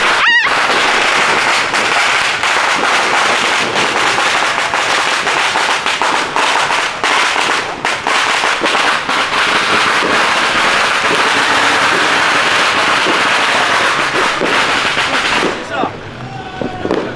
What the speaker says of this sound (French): Il y a des pétards de partout là.